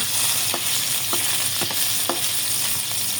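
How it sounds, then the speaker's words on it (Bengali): Fish frying in hot oil in a wok gives a steady, close, hissing sizzle with a few soft clicks and pops scattered through it. No one speaks. "তেলটা গরম হয়ে গেলে আমি এসে মাছগুলোকে দিয়ে দেবো ভাজার জন্য।"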